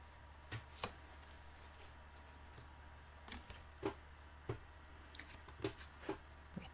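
Tarot cards are shuffled close by in a quiet room, giving soft irregular taps and riffles over a low steady hum.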